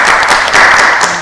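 A congregation at a church worship service claps in praise after a prayer, a brief, loud, dense burst of applause that holds steady through the moment.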